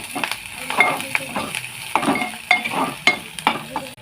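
Spice paste for an egg curry sizzling in a hot pan as it is stir-fried, loud close crackle with repeated sharp scraping strokes of a spoon against the pan.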